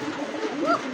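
Male Cocka pigeon giving a cooing call, a single soft rolling coo with a rising-falling warble near the end, close by over a low murmur of other birds.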